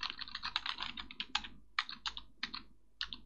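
Keys clatter on a computer keyboard in short quick bursts of close, crisp clicks, with a few separated taps toward the end and no talk.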